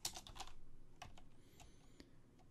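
Someone types on a computer keyboard while setting up a Minecraft server on a Raspberry Pi, a quick burst of close key clicks followed by a few spaced single taps.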